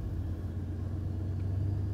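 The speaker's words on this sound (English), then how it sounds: "Alright, car starts, that's a plus." A 4x4 vehicle's engine rumbles at a steady, low idle throughout, loud and close, with no voices over it.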